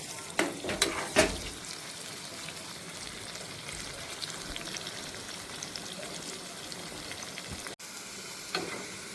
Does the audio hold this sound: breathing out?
no